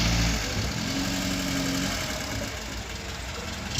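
A 1988 Audi 80 with a manual gearbox idles at a car market, a low steady engine rumble with a faint uneven knock, fairly close and fading slightly toward the end.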